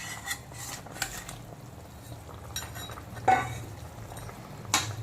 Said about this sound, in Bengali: এখন আমি প্রথমে দিয়ে দেবো ভেজে রাখা রুই মাছ।